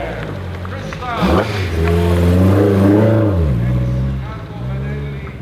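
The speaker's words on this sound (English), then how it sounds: "Ferrari 275 GTB. 275, I'm sure most of you know, iconic Ferrari" A Ferrari 275 GTB engine in a concours parade, a loud close rumble rising and falling in pitch as the car revs and drives past, with a voice talking over it.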